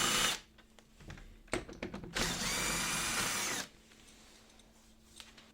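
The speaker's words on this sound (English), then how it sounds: "Remove both screws." A power screwdriver takes out the screws of a window handle, giving two short bursts of close, high whirring with quiet handling noise around them.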